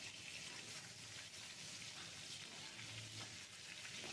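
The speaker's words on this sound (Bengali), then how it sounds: "এদিকে আলুগুলো ভাজা হচ্ছে," Potato pieces frying in hot oil in a kadai give off a continuous, even sizzling hiss, faint and steady throughout with no talk.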